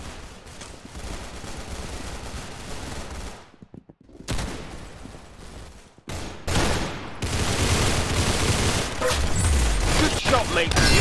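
Gunshots ring out in loud rapid bursts of fire, broken by brief near-silent gaps before the shooting resumes even more densely.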